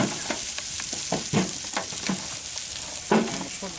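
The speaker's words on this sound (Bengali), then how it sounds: "এটা ভেজে নেব ভাই" Mixed vegetables fry in a pan for a village-style vegetable paratha meal, a constant bright sizzle with a series of irregular stirring scrapes and taps, one louder knock near the end, heard up close with no talking.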